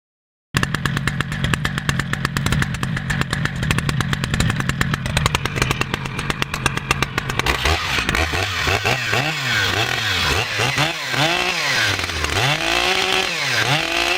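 A new Stihl MS-881 Magnum chainsaw in a log yard runs loud and close during its break-in test, first at a steady high whine, then revving up and down in repeated rising and falling surges.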